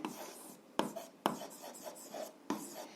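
Pen scratches across paper while someone writes out an algebra exercise, giving close, soft rubbing strokes broken up by a few sharper taps, with no talking.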